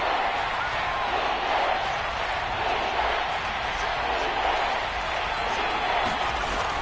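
Stadium crowd noise in a PS4 football video game builds ahead of a big third down, a continuous roaring murmur of the crowd with a voice talking over it.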